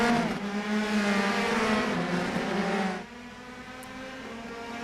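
Open-wheel race cars launch from the grid at the Long Beach street circuit in a racing video game, a loud layered engine roar climbing in pitch, then dropping to a steadier, quieter drone after about three seconds.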